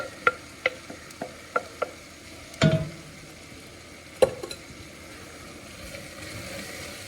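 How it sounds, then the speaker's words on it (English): Minced meat being stirred back into a Bolognese sauce in a pan, with a few sharp spoon taps early on, a louder scraping burst, then a soft steady sizzle running underneath. "We're gonna add the meat back in. Just throw it all in there. I am gonna mix that around really good."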